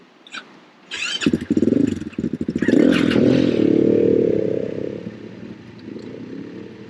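Trail motorcycle on a green lane revving up sharply, its engine rising through rapid firing pulses into a sustained loud drone as it shifts up into third gear, then fading slightly.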